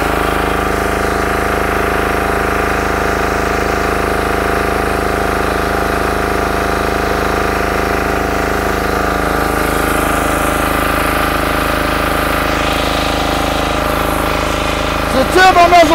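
A Yanmar L100 electric-start, belt-drive pressure washer rated 200 bar at 15 litres runs steadily with its turbo nozzle fitted, a continuous loud engine-and-pump drone that holds level throughout and briefly sharpens at the very end.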